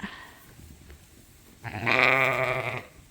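On a sheep farm, one loud, wavering lamb or sheep bleat rises after a quiet stretch of faint background noise and holds for about a second.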